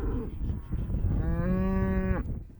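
Cattle on a working cattle ranch give a single long, drawn-out moo close by, over a low background of outdoor noise.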